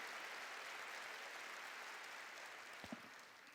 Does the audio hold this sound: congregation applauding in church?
yes